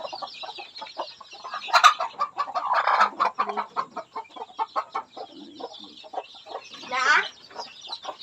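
Farm chickens cluck in quick, irregular bursts close by, with a rooster-like squawk standing out near the middle, while a few brief voices speak among them.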